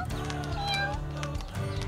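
A cartoon cat meows several times in quick succession over a busy background of music and effects, the cries fairly loud and close.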